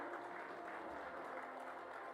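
Awards ceremony crowd applauding, a steady, dense patter of many hands clapping continuously through the short moment.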